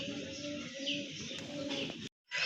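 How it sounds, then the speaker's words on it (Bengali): Raj Golla pigeons coo softly close by, a low burbling run of calls over faint background noise, cutting off abruptly near the end before resuming briefly. "মার্শাল্লাহ আরেক জোড়া রাজগোল্লা কবুতর দেখেন"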